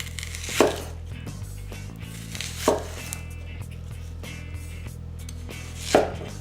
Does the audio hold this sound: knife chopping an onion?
yes